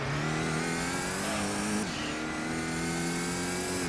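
A BMW M30 race car engine in Gran Turismo 2 drones loudly and steadily, revving with a brief dip in pitch partway through as though shifting or lifting, then pulling again with no talk over it.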